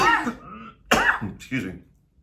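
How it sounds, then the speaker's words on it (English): Someone makes a few strained, stifled coughs and throat-clearing sounds in quick succession, close and squeaky, with short pauses between them. "excuse me while I squeal like a pig trying to cough and not cough"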